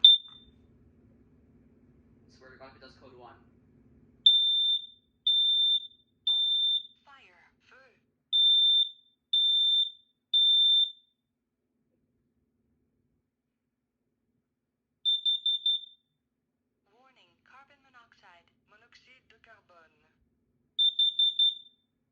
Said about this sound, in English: That was my first time hearing the French voice on a talking alarm.